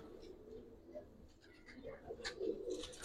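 Giribaz pigeons, a pair of army pigeons among them, coo softly in a loft, several low throaty coos rising toward the end, faint and close with no talk.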